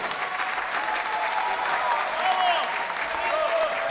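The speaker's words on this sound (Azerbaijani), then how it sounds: "Bir daha bu səhnədə sizə əsl sənət nümayiş edən insanları alqışlayaq." An opera festival audience applauds in a dense, sustained wash of clapping that holds steady throughout, with a few voices faintly mixed in.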